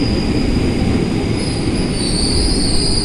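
Train moving through Cikarang station, a loud, close, continuous rumble of rolling railcars with a high metallic wheel squeal running over it throughout.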